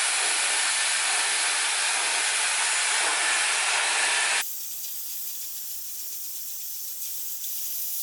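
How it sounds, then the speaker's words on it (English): A Dyson Airwrap with the rough dryer attachment drying hair at the roots, giving a loud, steady airy whoosh that drops sharply to a quieter setting partway through, close to the microphone with no voices. "I'm going to attach the rough dryer to just kind of dry my roots really, really quick"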